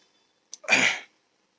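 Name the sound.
coughing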